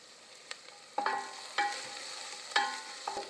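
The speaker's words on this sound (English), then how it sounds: "add the garlic and saute for another minute" Onion and garlic sautéing in olive oil for a Tuscan white bean vegetable soup, a soft steady sizzle broken by several sharp spoon-scraping stirs against the pan, close by, with no one talking.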